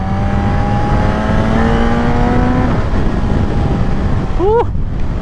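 A 2024 Suzuki GSX-S1000 motorcycle engine revs and climbs through its gears, loud and close, with the pitch repeatedly rising and then dropping at each shift and strong wind rush around it.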